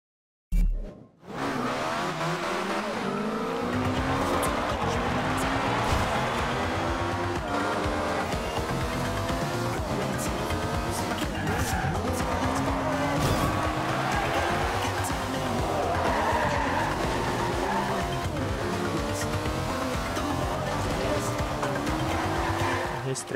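Race cars in the Forza Horizon 2 video game roar continuously with screeching tire skids and shifting engine pitch throughout, loud and steady, while someone talks over the action.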